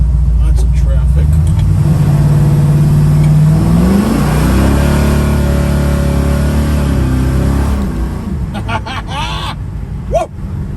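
A 1981 Chevrolet Camaro engine revs and accelerates through traffic, its pitch climbing steadily before easing off, loud and close, with a sharp shift near the end.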